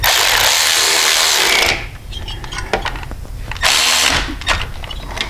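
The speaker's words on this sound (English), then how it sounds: "Now I have this in, I'm going to go ahead and tighten that one up." A power tool tightening the shift rod bolt on a Harley-Davidson Touring motorcycle, with a loud whirring burst, a pause of rattling clicks, then a second burst, close up and with no talking.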